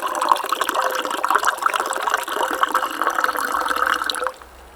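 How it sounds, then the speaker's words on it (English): Liquid margarita mix pours steadily into about an ounce of tequila in a cup at a backcountry alpine lake camp, a continuous close trickle and splash lasting about four seconds before stopping abruptly. "now I'm just going to add our once powder, now liquid margarita mix"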